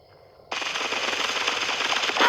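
Rapid, continuous automatic gunfire in the video game Bullet Echo, starting abruptly after a brief quiet moment and staying loud and dense to the end.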